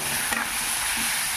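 Bitter gourd and potatoes frying in a pan make a close, steady sizzle, with a quick scrape of stirring near the start and a faint tap toward the end.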